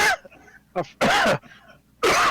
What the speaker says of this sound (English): You gotta quit coughing